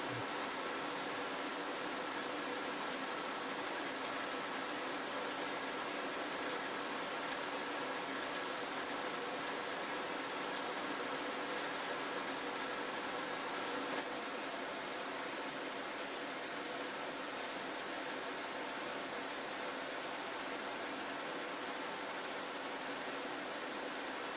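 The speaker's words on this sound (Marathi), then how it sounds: "डेंजर पाऊस चालू आहे" Heavy rain pours steadily near Trambakeshwar, a dense, even hiss of drops drumming on surfaces that holds without pause from start to finish, with no voices over it.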